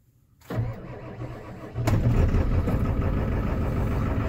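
A diesel engine turns over and fires on a cold start after glow plug heating, a short crank followed by a loud rough catch that settles into a steady, close idle with no talk.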